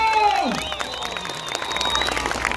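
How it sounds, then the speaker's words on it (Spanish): Audience applause in a clown show contest, clapping and cheering to vote for a contestant, with tonal squeals and voices mixed into the crowd noise throughout. "Si ustedes creen que el ganador del concurso es el Rabito, el aplauso"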